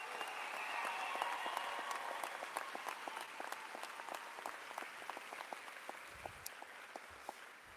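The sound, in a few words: graduation ceremony applause for the class of 2018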